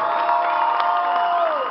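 A crowd at a graduation-trip night cheers and whoops in a brief, loud burst of shouting voices.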